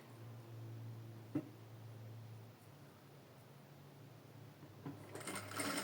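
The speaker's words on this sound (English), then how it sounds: "So I'm sewing neat, very close to the cord." A sewing machine stitches a seam close to a cord, running as a steady low hum with a few brief clicks and a louder rustle of fabric at the end.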